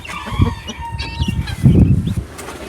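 Indian roosters and guinea fowl in a coop, close by, giving a busy run of clucks, squawks and short calls, with a brief flurry of wing movement and no talk over them.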